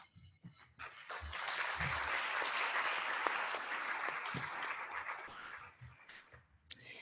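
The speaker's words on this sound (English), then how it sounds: "Please help me give them a round of applause." An audience at a Coolest Places to Work awards event applauds steadily for several seconds, a dense wash of clapping that swells and then fades, with a few faint voices at the edges.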